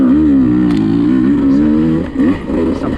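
A dirt bike engine is held high in the rev range on a wooded turn track, a loud, close, steady buzzing drone that wavers in pitch, then dips and surges near the end.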